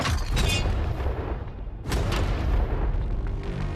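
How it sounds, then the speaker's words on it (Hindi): Tank cannons firing rounds at a money target in a $500,000 challenge, heard as a loud continuous booming roar with two strong blasts and debris rumble, no voices. "ये 5 टैंक्स पैसों पर निशाना लगाकर 20 राउंड फायर करने वाले हैं"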